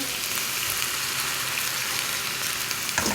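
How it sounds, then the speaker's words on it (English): Vegetables sautéing in olive oil in a pan on the stove, a dense, continuous close sizzle with a faint stir near the end. "We're gonna put those in some olive oil on the stove, saute them"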